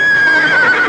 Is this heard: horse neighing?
yes